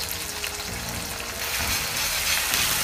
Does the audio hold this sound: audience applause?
no